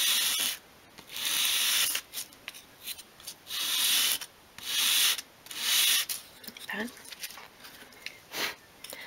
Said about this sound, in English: And then to do the sides, you just want to go across the sandpaper in one direction.